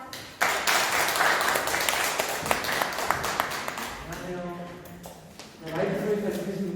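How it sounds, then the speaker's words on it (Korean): An audience at a climate and food transition lecture applauds in a burst of scattered clapping that thins out, followed by a voice speaking close to the microphone. "큰 박수 부탁드립니다."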